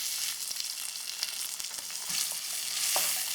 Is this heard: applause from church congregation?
no